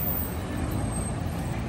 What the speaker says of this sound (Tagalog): Ayan, ang jeep na dito na guys.